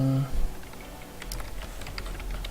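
Typing on a computer keyboard for motion-title text, soft quick key clicks in an irregular run after a brief opening hum, close and moderately quiet, with no talking.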